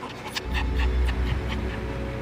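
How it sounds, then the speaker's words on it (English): A pet dog in the back of a truck on a snowy day, making panting and soft whimpering sounds close by, steady for the whole stretch with low rumbling underneath. "As they walk up to the truck, they hear a whimpering sound."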